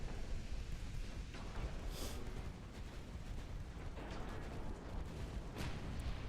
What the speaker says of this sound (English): We take a torpedo hit right on the furthest back part of the ship.